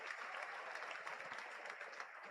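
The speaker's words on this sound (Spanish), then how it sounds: "Ovación del Molinón." Steady, dense applause from a large football crowd at El Molinón stadium, heard from a distance, continuous and even throughout.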